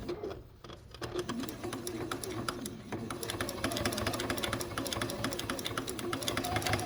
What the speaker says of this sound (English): I'm just using the guide on my presser foot for where I want my stitching line to be